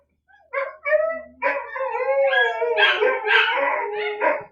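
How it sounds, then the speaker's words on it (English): Several dogs howl together in long, wavering, overlapping tones that rise and fall, close and loud, with no talking. "They hear another dog howling and they howl"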